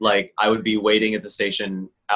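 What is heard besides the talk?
No everyday noise stands out behind the speech.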